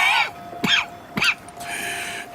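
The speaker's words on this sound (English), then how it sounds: "That's quite a cough." Two sharp, rasping tubercular coughs from Arthur Morgan in Red Dead Redemption 2, in quick succession, followed by a short breathy sound.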